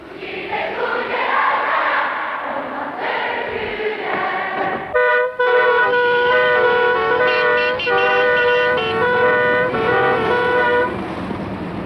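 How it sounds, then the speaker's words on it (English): Heavy city traffic rumbles through Istanbul streets in 1971. A loud, sustained car horn blares over the noise through the second half, with overlapping honks and no one speaking. "The traffic is just as heavy as London. Lots of horns going, screeching of brakes."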